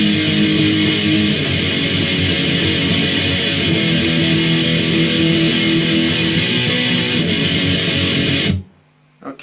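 Distorted electric guitar strums the bridge C pattern of Blink 182's Aliens Exist, a dense, driving chord rhythm sustained for over eight seconds, then stopping sharply, loud and upfront without speech.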